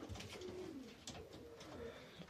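Mordovian high-flying pigeons in a loft, cooing softly and repeatedly close by over faint background rustling.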